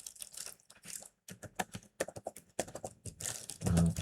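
Fast, uneven typing on a computer keyboard during data entry, a steady run of close clicks and taps with short pauses and no speech.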